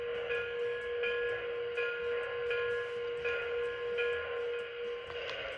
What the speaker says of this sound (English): I got the bell.